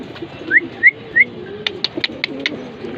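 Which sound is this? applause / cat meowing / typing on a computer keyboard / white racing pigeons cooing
white racing pigeons cooing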